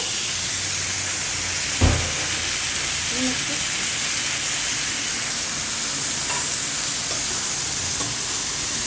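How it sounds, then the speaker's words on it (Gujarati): Chopped bottle gourd is added to a hot pan and stirred, giving a continuous steamy sizzle and hiss. A single sharp clatter comes early and a few soft scrapes follow. "હવે દૂધી નાખી દઈશું આપણે, પછી નિમક નાખશું"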